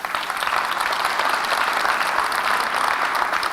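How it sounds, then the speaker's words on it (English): Applause from an audience at a 1999 InDesign software launch demo: dense, sustained clapping fills the room at a steady level for several seconds, with no voices over it. "You're applauding."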